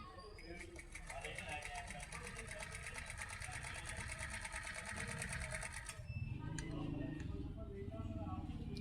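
A sewing machine stitches at a rapid, even rhythm of ticking needle strokes for about six seconds, then slows into a lower clunking run, with a person talking over it throughout.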